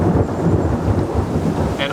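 A thunderstorm heard from indoors, with rumbling thunder rolling continuously under steady rain, dense and fairly loud throughout.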